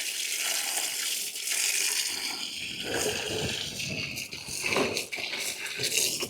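Water runs from a farm tap in a continuous gushing splash, fairly close, shifting slightly as it hits things below, with faint voices now and then.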